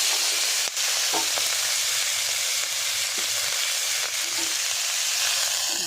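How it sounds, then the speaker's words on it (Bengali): Chopped onions frying in hot oil for a dried fish dish, producing a loud continuous sizzle up close with a few light knocks from stirring, and no talking. "এই পেঁয়াজগুলো একটু ভেজে নেব।"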